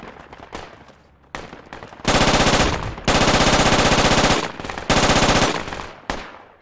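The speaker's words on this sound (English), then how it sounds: "I'm getting shot at" Heavy automatic gunfire in the military shooter Project Reality, several long loud bursts of close rapid shots separated by brief pauses, with scattered single cracks before them.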